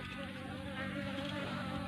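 Wild honey bees swarm around a trap box left at a hut, making a steady, dense buzzing drone that holds evenly throughout at a moderate distance.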